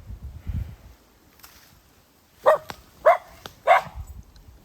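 A puppy barks three times in quick succession, close and fairly loud, after a quiet stretch with faint rustling outdoors in the countryside.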